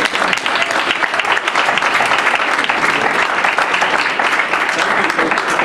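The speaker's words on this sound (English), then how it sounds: "Big round of applause for you." Loud, dense audience applause for a presenter at a university faculty reading, a continuous wash of many hands clapping close and steady throughout.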